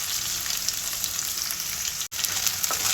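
Onion frying in oil with cumin seeds and green chillies for a Telangana-style bottle gourd and prawn curry, a loud steady close sizzle broken by one brief dropout.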